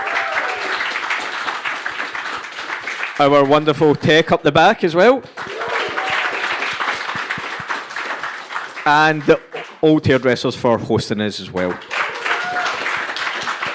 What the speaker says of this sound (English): Can we get a round of applause for the audience?